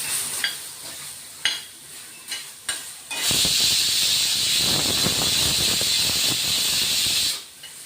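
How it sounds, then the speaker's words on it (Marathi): A few light scrapes and taps from a spoon in a pan, then a tomato hits hot oil and bursts into a loud, steady sizzle that continues before cutting off. "एक टोमॅटो घेतलाय, तोही आपण आता भाजून घेऊ, थोडा परतून घेणार आहे।"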